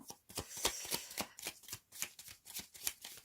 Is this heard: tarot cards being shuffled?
yes